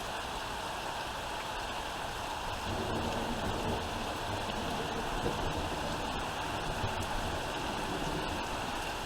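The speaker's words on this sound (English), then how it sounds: "Rain picks up, lose power." Heavy rain pours during a thunderstorm as a dense, steady roar of water with no clear thunderclaps and no voices.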